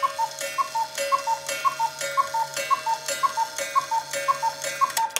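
Countwheel cuckoo clock close by, ticking steadily while the cuckoo call repeats about ten times as paired two-note hoots in an even rhythm, with faint clicks of the mechanism underneath.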